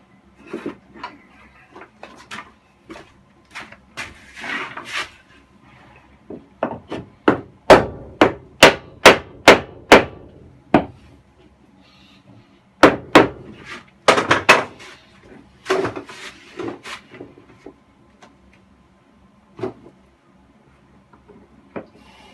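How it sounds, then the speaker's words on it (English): Hammer blows on wood, a French hammer at work during a narrowboat fit-out, in irregular bursts of sharp strikes with a quick run of evenly spaced hits in the middle, plus scraping and knocking between them. "Use the French hammer."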